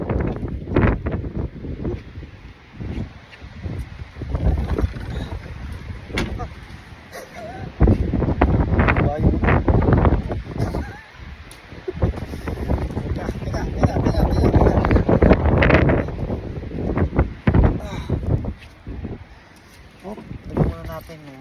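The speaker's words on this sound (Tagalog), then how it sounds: "Pasang hangin ah." Strong gusty wind buffets the microphone in rough, roaring bursts, with people talking over it throughout.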